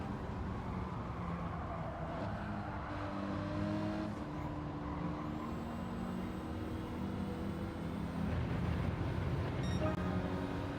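A Renault Clio race car in a racing video game roars steadily throughout, its engine tone holding sustained pitches with shifting harmonics and a brief high tick near the end, loud and continuous with no talking.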